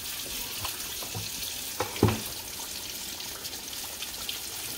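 Whole catfish frying in hot oil, a steady broadband sizzle and crackle with a few sharper pops and spits, close by and without talk.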